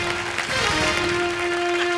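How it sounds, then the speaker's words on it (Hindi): Studio audience applause on a televised Hindi comedy show, a steady, dense wash of clapping that holds for the whole stretch, with a thin sustained tone running underneath. "जोरदार तालियां"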